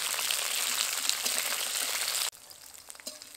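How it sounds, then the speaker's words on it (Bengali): Flat beans frying in hot oil for a shrimp and bean curry, a loud dense sizzle that abruptly drops to a quieter, crackling fry partway through, with no voices. "শিমগুলো দিয়ে দিয়েছি, এবার লালচে করে ভেজে নেব।"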